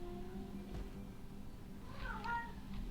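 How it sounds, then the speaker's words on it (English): A house cat yowling at a door, a faint rising meow or two coming through over low room hum and game background noise. "Cat's yelling at the door."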